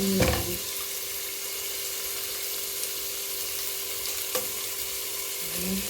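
Calamari (squid) frying in hot oil in a pan with butter for crispy seafood, giving a steady, close sizzle with a few brief louder crackles and pops, no voices.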